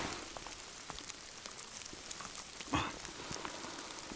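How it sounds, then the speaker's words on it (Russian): Heavy rain falls in a forest, a soft, steady patter of drops on leaves and ground, fairly faint and even throughout, with one louder knock partway through. "дождь прям зарядил"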